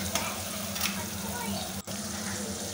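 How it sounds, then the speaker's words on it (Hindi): Beef masala frying in oil hisses and sizzles steadily and close, with faint clinks of stirring and one brief dip partway through. "तो अब ये हम अच्छे से ज़रा इसको फ्राई कर लेंगे"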